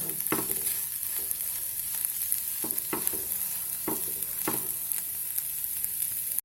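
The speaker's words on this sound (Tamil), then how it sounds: "நல்லா முட்டை வேகிற வரைக்கும் நம்ம கிளறி விட்டுக்கணும்." Egg frying in a pan and being stirred, giving a steady close sizzle broken by regular scrapes and taps of the spatula, with no voices.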